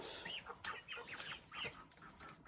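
Young chickens in a brooder cluck and chirp softly in short bursts, close but quiet, with no talk.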